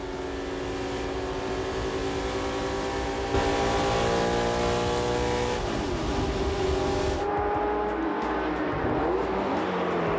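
A Lola T70 race car engine roars continuously from onboard at Le Mans Classic 2006, loud and steady, with the pitch shifting as the driver changes gears.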